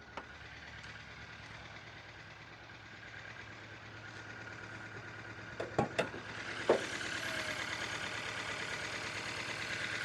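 A smoking 1.6 liter car engine with a broken piston idles with a steady rough drone, followed by a few sharp clacks and a slight rise in revs, close and moderately loud, with no talk.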